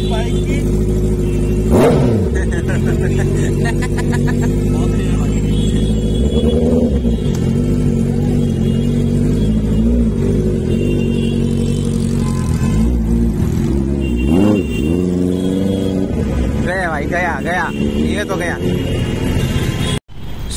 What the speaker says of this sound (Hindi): खतरनाक आवाज है यार इसकी बाइक की।